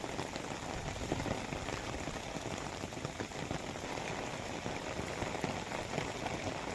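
Heavy monsoon rain pours steadily over Dwarka, Gujarat, a dense, continuous hiss of drops striking surfaces with no break, close and full, with no voices.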